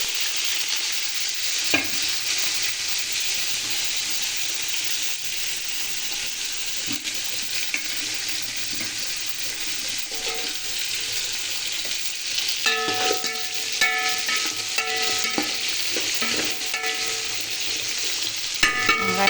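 Onions, mint and coriander sizzle steadily in a hot pan while making biryani, a continuous bright frying hiss with occasional stirring scrapes and light clinks toward the end.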